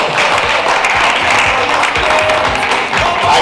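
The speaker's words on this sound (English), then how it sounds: "So clap for yourself again." A church gala night audience claps together in a loud, dense burst of applause that holds steady for a few seconds.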